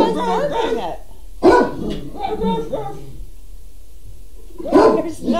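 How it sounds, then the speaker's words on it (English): Several dogs barking in short, repeated bursts, fairly close, with a whimpering yip mixed in and a person talking between the barks. "What are you guys barking at?"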